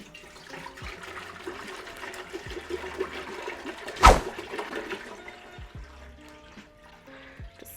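Spring water pours from a big jug into a cooking pot for chicken soup, a steady splashing stream with one sharp, loud gush midway before settling back to a gentler flow.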